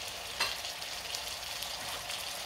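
Food cooking in a pan is mixed with a utensil, a quiet, steady frying hiss with one brief scrape near the start.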